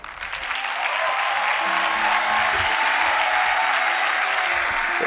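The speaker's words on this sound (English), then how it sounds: "Some of them are roaring in the crowd" A large church conference crowd applauds and roars at a leadership conference grand finale, with a steady, loud wash of clapping and cheering that builds in the first second and holds throughout.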